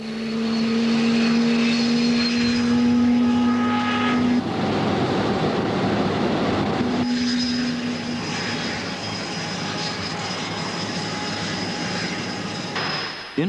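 A 1980s jet aircraft during spin test flights, a loud continuous engine roar with a steady whine that drops out and then returns, heard from close by as if from inside or near the aircraft.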